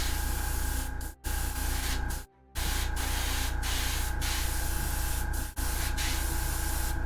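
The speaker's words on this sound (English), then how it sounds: "I haven't sprayed out of this airbrush in a while. This is the Iwata airbrush." Iwata airbrush spraying paint, a steady, close hiss of air and paint running almost continuously, broken by a few brief stops where the trigger is released.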